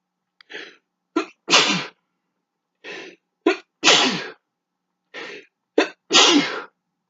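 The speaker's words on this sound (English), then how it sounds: "Hang on, I'm going to sneeze." A person sneezes three times in a row, each a sharp close burst preceded by short catching inhales, with clear silent gaps between.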